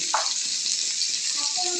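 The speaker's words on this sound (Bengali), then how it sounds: "রান্না করার জন্য শোল মাছটাকে ভেজে নিচ্ছি" Snakehead (shol) fish fries in hot oil, a steady close sizzling hiss with a quick burst near the start and faint clinks toward the end, no speech.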